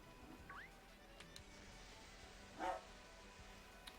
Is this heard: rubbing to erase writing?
no